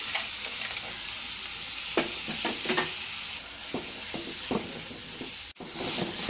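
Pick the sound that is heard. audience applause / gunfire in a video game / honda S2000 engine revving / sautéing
sautéing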